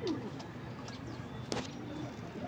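Pigeon squabs cooing inside a breeding loft, a few soft coos with brief chirps over steady background noise, fairly close and low in level.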